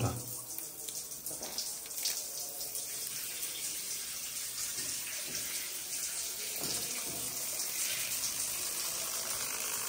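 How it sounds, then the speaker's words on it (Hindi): Water from a Grohe SmartControl thermostatic shower fitting runs at normal supply pressure with the booster pump off, a steady broadband hiss and splash that holds evenly for the whole stretch with no talking. "चलिए पहले पानी चालू करते हैं।"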